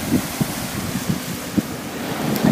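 Ocean waves wash onto a French beach with a steady surf roar and heavy wind buffeting the microphone, and a few soft thumps of water surge in close by.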